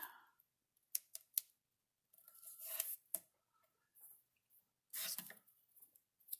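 Scissors snip through a strip of green fabric in a quiet room, giving a few short crisp cuts near the start, then longer rustling cuts and a final burst of snipping, close and fairly soft.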